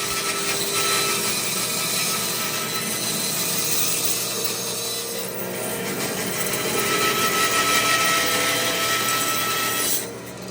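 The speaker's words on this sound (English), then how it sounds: "Take it over to the bandsaw, cut it down to basic size" A bandsaw cutting through a water oak log, a continuous loud buzzing whine with a harsh grinding cut that holds steady for about ten seconds, then drops off as the cut finishes.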